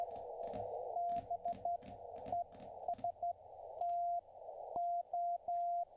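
Morse code sent over amateur radio: a steady single tone keyed into short dots and longer dashes in an uneven rhythm, with faint static and brief clicks between.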